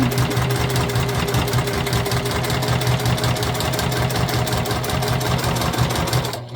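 A sewing machine runs steadily while stitching a self-drafted tote bag, its needle mechanism giving a fast, even mechanical hum and chatter held close and loud throughout, then easing off right at the end.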